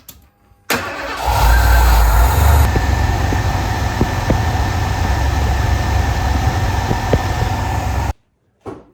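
A Ford 302/351 Windsor V8 cranks and catches with a loud surge, then settles into a steady, close idle for several seconds before cutting off abruptly.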